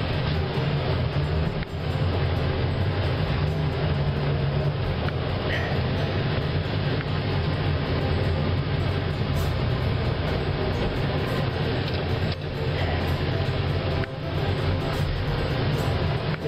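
A 1983 Jeep CJ7 rolls down the road, heard from inside as a steady loud drone of engine and road rumble with wind, a few brief dips and bumps along the way.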